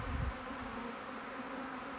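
Swarming honeybees make a dense, steady buzz that fills the air at a moderate distance, with no pause through the whole stretch.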